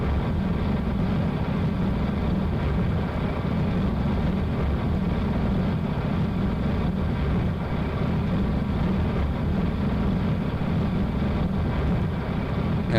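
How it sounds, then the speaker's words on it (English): Steady, continuous jet engine roar from RAPIER engines on a space plane taking off in Kerbal Space Program, running in normal air-breathing mode; a dense, even drone that stays loud and unbroken throughout, with no voices. "we are still using the normal mode of our jet engines or RAPIER engines"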